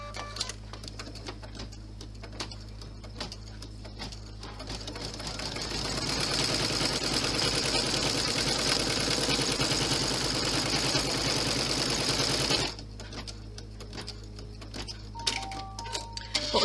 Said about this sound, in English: lower your needle and stitch it down